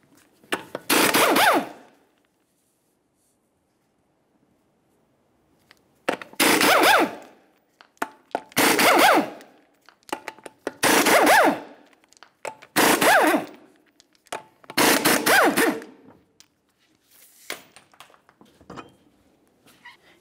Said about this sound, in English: removing the center cover, all six of our 19mm lug nuts